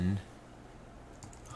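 Keys clatter softly on a computer keyboard while code is entered, a short run of light, close clicks after a brief voice at the very start.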